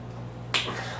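A single sharp click from the trigger resetting on a WE 1911 airsoft gas pistol, heard close and alone against a low steady background hum.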